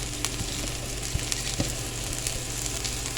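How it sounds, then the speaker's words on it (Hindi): Steady close sizzling of cabbage, capsicum and carrot frying with ginger and garlic in a hot pan, with occasional pops and scrapes, continuous and fairly quiet, no talking. "अब हम इनको थोड़ा सा फ्राई करेंगे अदरक लहसुन के साथ ही।"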